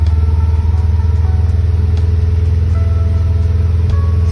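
A car engine idles at steady RPMs after an O2 sensor fix, a constant close low hum with a regular pulsing rhythm and no revving, alone without talk.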